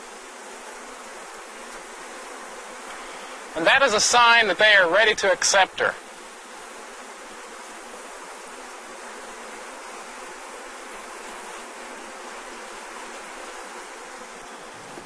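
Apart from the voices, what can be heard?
honey bees on a queen cage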